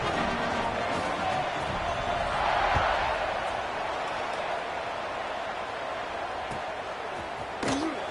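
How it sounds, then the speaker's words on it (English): A college football stadium crowd at a game against Duke buzzes after a score, a broad, steady murmur of many voices with scattered thumps and a swell partway through, heard from a distance. "this crowd is buzzing after that last score"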